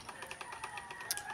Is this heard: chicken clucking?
yes